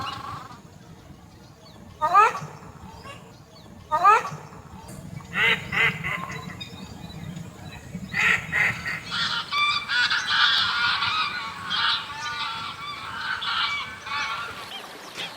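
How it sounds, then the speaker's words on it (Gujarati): Geese and ducks honk and quack at Thol Bird Sanctuary, Gujarat, starting with a few spaced calls and swelling into a dense, overlapping chorus of waterfowl nearby. "તો એકવાર અહીંયા આવીને પક્ષીઓનો કલરવ અચૂક સાંભળવા જેવો છે"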